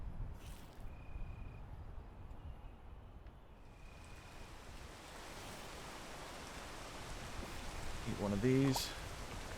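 Rain falls in the video game PEAK as a soft, steady hiss that swells slightly toward the end, quiet beneath occasional speech and a short burst of game tones.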